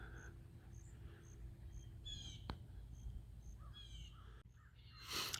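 Birds chirp with short repeated calls over a steady outdoor hum at Lost Valley Lake Resort, and a brief louder burst of sound comes near the end.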